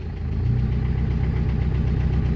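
A Ford Ranger diesel engine idles at low revs, around 900 to 1000 rpm, a steady deep rumble with a regular knocking pulse, loud and close, with no voices.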